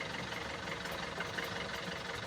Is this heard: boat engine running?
yes